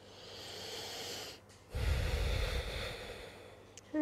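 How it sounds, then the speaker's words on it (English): Slow breath drawn in and let out during a guided yoga class, soft and close, with a fuller exhale swelling partway through before trailing off. "Breathing in"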